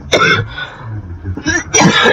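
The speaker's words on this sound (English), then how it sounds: "I'm so sorry, I'm still coughing." A person nearby gives two harsh coughs with a throaty clearing between them, loud and close, with short pauses separating the bursts.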